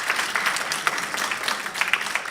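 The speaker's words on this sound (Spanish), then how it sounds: "le podemos dar nuestro ánimo dándole un aplauso todos" A church congregation applauds together in a steady, dense wash of clapping that holds evenly throughout, close and fairly loud with no talking over it.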